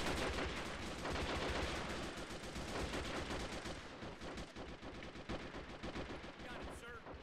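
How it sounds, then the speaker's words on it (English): Rapid bursts of automatic gunfire and booming blasts from a battle in the video game Men of War: Assault Squad 2, dense and continuous, close and loud throughout. "Because of all the explosions."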